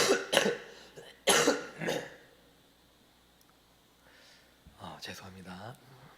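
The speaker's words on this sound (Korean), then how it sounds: "갑자기 기침이 나오네요" A pastor at a Korean church worship service coughs several times up close. Harsh, sudden bursts come in two clusters, followed after a pause by a throat-clearing and a softer cough, with no other talk.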